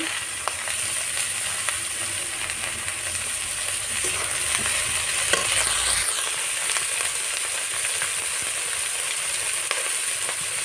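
Potato and eggplant frying in a pan with dried shrimp, an even, bright sizzle and crackle running steadily the whole time, close and moderately loud, with no one speaking.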